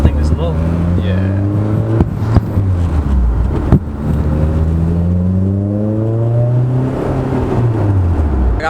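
Honda S2000 sports car accelerating hard through the gears, engine pitch climbing, dropping at each shift and climbing again, loud and close from inside the cabin, with a couple of sharp knocks along the way.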